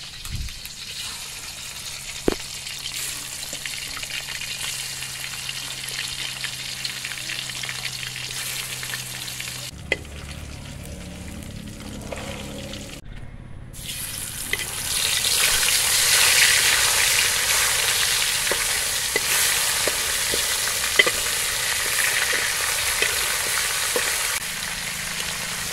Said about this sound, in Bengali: তেল গরম হয়ে গেছে একদম। হ্যাঁ দিয়ে তো দাও। এখন দিয়েছি মাছ।